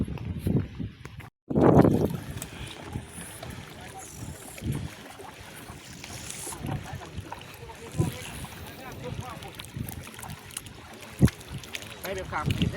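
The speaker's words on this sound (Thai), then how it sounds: "เสียงลมพัดดังวูวู" Gusty wind rushing and buffeting the microphone outdoors beside the Lam Se river, with low rumbling bursts and some faint voices in the background.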